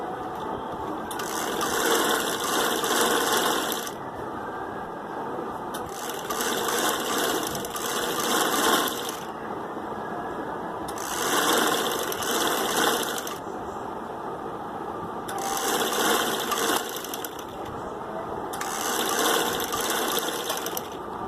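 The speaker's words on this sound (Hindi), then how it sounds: "डबल सिलाई लगा लूँगी ताकि पट्टी सही से बैठ जाए।" A sewing machine runs a double seam on clothing in repeated bursts of a few seconds each, steady mechanical whirring and clatter separated by short pauses, close and fairly loud with no talking.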